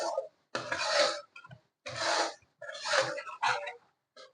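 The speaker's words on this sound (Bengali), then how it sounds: "এবারে মশলাটাকে আরো একটুখানি কষিয়ে নিচ্ছি।" Spice paste with a spoonful of sugar is stirred and fried in a pan for red amaranth stem chorchori, giving a series of short, close rasping scrapes in separate bursts with brief pauses between.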